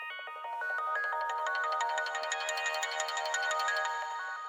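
Synth sequence from the Opal synthesizer in a jump-up drum and bass track, a bright rapid arpeggiated pattern of bell-like notes playing steadily and alone at moderate level.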